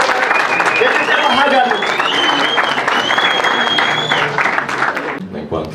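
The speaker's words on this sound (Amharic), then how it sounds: "ጭብጨባ" An audience applauds at a surprise birthday gathering for a singer, dense, sustained clapping with voices and cheers mixed in, tapering off near the end.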